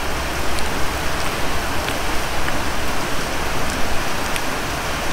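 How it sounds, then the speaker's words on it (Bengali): Heavy monsoon rain pours down steadily in a village in Bengal, a dense, continuous hiss of drops hitting surfaces close by with no voices over it. "এইভাবে টানা 2-3 ঘন্টা ধরে বৃষ্টি হচ্ছে"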